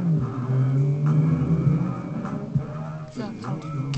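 A Honda Civic engine revs in the racing game Need for Speed Underground, a steady buzzing drone that rises and shifts pitch, with faint game sounds over it.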